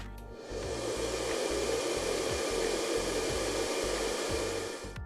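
A hair dryer blows with a steady, loud whooshing hiss after a brief start-up, running continuously close by before winding down at the very end.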